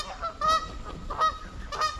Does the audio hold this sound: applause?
no